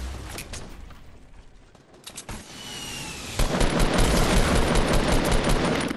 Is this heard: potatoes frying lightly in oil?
no